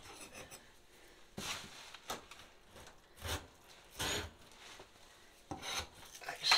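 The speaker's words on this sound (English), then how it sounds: "Let's scrape this up." Scraping up an old kitchen backsplash: short, rough rasping strokes in separate bursts, moderately close with quiet pauses between them and no voices.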